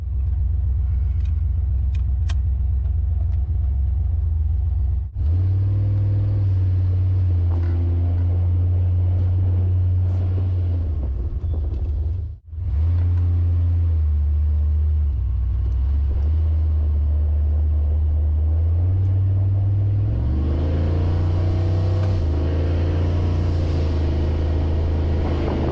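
A modified car drives along with a deep, steady engine rumble, close and low, broken by brief dips and a short gap, then a rising rev near the end; no talk.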